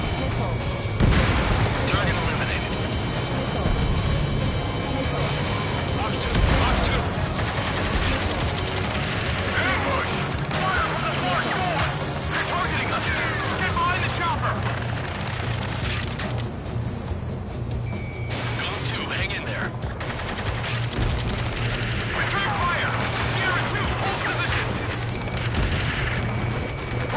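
Explosions and gunfire from the jet combat video game Ace Combat 7: Skies Unknown, with heavy booms and continuous rumbling under radio-style voices over about 27 seconds.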